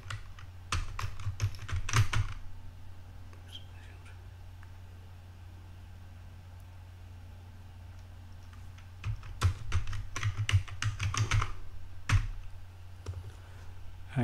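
Quick bursts of typing on a computer keyboard, close and crisp, come in two flurries separated by a quieter pause, with a low steady hum underneath.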